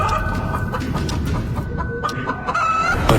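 A hen clucks repeatedly in short, close, fairly loud bursts, with other fowl-like calls mixed in and no talking.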